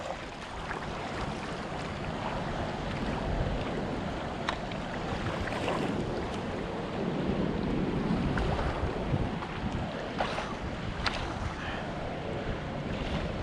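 Choppy sea swell rolling against a shore, a steady broadband wash of surf with gusty wind buffeting the microphone, rising and falling in waves throughout without pause.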